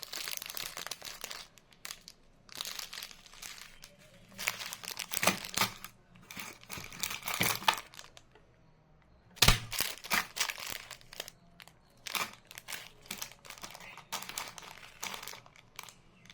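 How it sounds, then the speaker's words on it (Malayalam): Plastic bag stuffed with craft beads being handled, giving irregular crinkling and rattling close to the microphone, with quiet gaps between handling bursts and no talking. "കവർ നിറച്ച് ബീഡ്സുകളാണ് കണ്ടോ"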